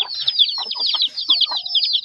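Chickens cluck in quick, overlapping bursts of short calls, close and lively, filling the whole stretch without any human voice.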